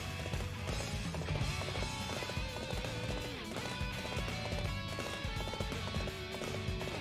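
Rapid, steady hoofbeats of a galloping horse in the video game Dynasty Warriors 8 drum on continuously within a dense, busy backdrop of other sound.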